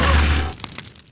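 A grenade blast in GTA Chinatown Wars, a loud low boom at the start that quickly fades into a couple of faint pops.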